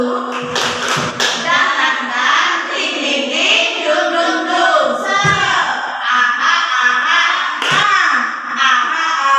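A group at a teacher training session performs the rhythmic tepuk semangat routine, sharp patterned claps punctuating voices that chant and sing along in unison, close and fairly loud throughout.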